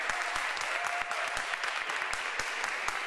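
A crowd at a women's tribute show applauds a young musician after his set, steady dense clapping throughout with sharp individual claps standing out, moderately distant.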